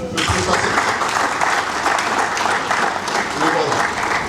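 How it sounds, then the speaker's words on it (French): Loud, steady applause from an audience at a book launch, honoring the author of a book's preface, continuing for several seconds with a voice briefly audible over the clapping. "On l'applaudit, le préface."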